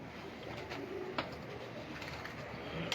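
Pigeons cooing in a noisy outdoor loft setting, soft low coos buried in steady background hiss and clatter, with no clear voice over them.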